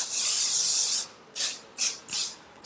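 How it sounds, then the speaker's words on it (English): Got2b Glue hairspray sprayed onto hair: one long hissing burst of about a second, then three shorter close, loud spritzes, with no talking. "I'm going to be spraying this got to be glue on the hair so that it will stop"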